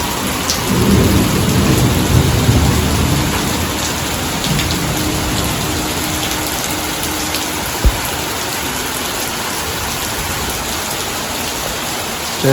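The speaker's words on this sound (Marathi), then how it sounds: "काळोख झालाय पाऊस तर खूप पडतोय आणि विजांचा कडकडत चालू आहे" Heavy rain pours steadily and loudly, with a deep rumble of thunder rolling through early on, then the downpour continues alone.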